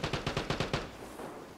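Rapid automatic gunfire in the game Vigor, five or six close, sharp shots in a quick even burst that then fades into a short echoing tail.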